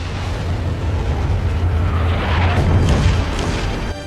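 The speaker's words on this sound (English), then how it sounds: "Yet this cannon shot failed to hit the scout plane." Main gun of the battleship Yamato firing, a heavy sustained boom with rumbling blast and roar filling the whole span, loud and close.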